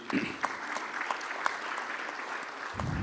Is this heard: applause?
yes